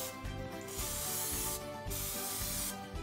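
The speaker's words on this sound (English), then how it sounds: "I'm going to grease both of the tins with non-stick cooking spray" Three bursts of non-stick cooking spray onto baking tins hiss in quick succession, close and fairly loud, each a short rushing spurt separated by brief pauses.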